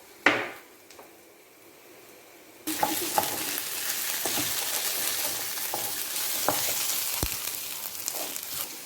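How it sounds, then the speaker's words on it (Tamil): Garlic, onion and dried chillies are sautéed in a pan: a quiet opening tap, then a sudden loud sizzle of frying with scattered stirring scrapes and clinks of the utensil against the pan, with no talking. "பூண்டு போட்ட அப்புறம் வெங்காயம் போட்டுட்டு வதக்கணும்."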